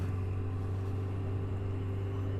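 A motorcycle engine pulls in second gear as the RPM climbs, giving a close, steady, droning hum that holds an even pitch throughout.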